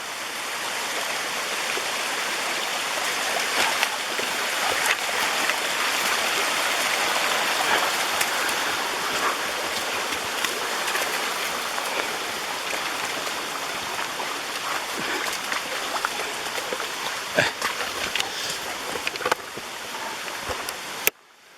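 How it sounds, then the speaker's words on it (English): A waterfall pours into a flowing stream at a mountain recreation area, a steady broadband rush of water close by with occasional louder splashes and knocks toward the end. "So there is the bottom of the waterfalls,"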